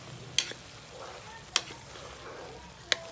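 Three sharp scraping clinks of a utensil against a pot, spaced about a second apart, over a soft simmering bubble.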